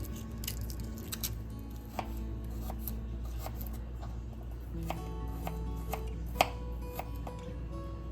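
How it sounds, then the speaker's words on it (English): A knife rough chopping garlic on a cutting board, with irregular close taps and thuds spread through the clip and one louder chop near the end, over a quiet background hum. "I always want to rough chop my garlic before I put it into the garlic press"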